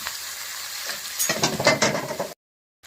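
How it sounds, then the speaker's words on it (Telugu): Strained vegetable noodles drop into a hot pan and are stirred, a brief close burst of sizzling and scraping that cuts off abruptly into silence. "ఇప్పుడు మనం స్ట్రైన్ చేస్తున్నటువంటి ఈ నూడిల్స్ని అందులోకి వేస్తున్నాము"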